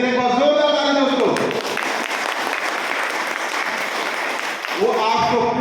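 A crowd at a business-plan meeting breaks into loud, enthusiastic clapping for their UDC sir, a dense wash of claps lasting about four seconds between stretches of amplified speech.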